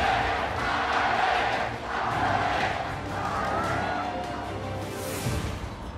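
A large crowd roars and cheers in a big reverberant arena at the League of Legends World Championship, a sustained wash of voices that dips briefly then swells again.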